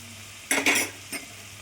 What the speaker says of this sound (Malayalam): ഇനി അതിലേക്ക് സവാള, ഇഞ്ചി, വെളുത്തുള്ളി ഇത്രയും ഇട്ട് നമ്മളൊന്ന് വഴറ്റിയെടുക്കാൻ പോവുകയാണ് കേട്ടോ.